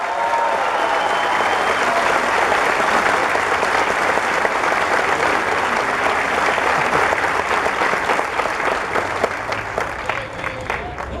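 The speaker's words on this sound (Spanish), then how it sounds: "Un aplauso para la prensa independiente de México." Sustained loud applause from a large crowd at a national party congress of Morena in Mexico, dense steady clapping filling the space for the whole stretch with faint voices mixed in, thinning slightly toward the end.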